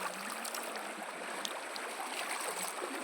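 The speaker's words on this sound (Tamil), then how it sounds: "தண்ணி நல்லா தான் வருது." Tap water running steadily while someone washes their face, a soft continuous splashing hiss heard close by, with no voices over it.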